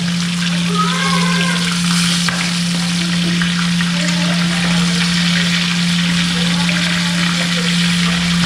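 Sautéing and frying for sinigang with talakitok fish head, a loud continuous close sizzle of oil with stirring, a steady hum beneath and brief faint voices in the background.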